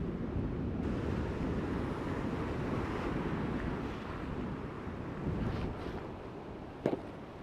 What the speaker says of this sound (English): Woo! Big waves.